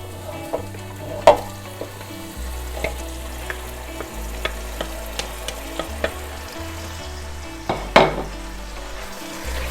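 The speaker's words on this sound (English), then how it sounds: "Give that a good stir." Meat sauce stew for gnocchi or pasta stirred in a hot pot, a steady frying sizzle under repeated knocks and scrapes of a spoon against the pot, with two louder clanks.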